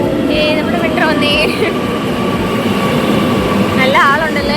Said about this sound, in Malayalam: നമ്മുടെ മെട്രോ വന്നേ.